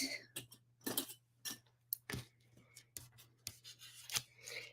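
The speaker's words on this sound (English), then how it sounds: "So I just fussy cut the trees." Scissors snip paper trees out by hand in a series of close, crisp cuts, irregular in rhythm, with a faint low hum underneath.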